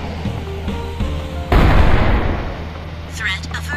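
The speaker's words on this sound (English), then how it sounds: "You blew up the missile?" A missile blowing up in the spy game I Expect You To Die 2, heard as a sudden loud blast partway through that rolls off into a rumbling decay over music.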